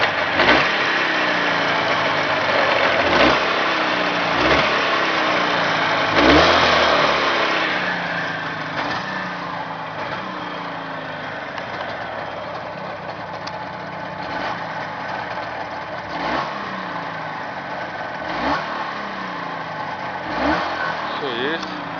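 A Jawa 638 motorcycle engine runs on a stand, a loud, close, buzzing two-stroke idle broken by repeated sharp revs that rise and fall, with a person briefly talking under it.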